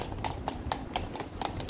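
Horses' hooves clip-clopping on a street in Kraków, a steady, even rhythm of sharp hoof strikes close by over a low background murmur of the city.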